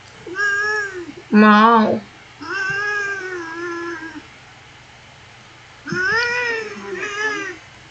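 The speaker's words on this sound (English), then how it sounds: "Every time I come back here, the cat is yelling." A cat in the game Phasmophobia yells in loud, drawn-out meows and caterwauls, several separate cries with pauses between them, close and prominent, with a brief spoken word among them.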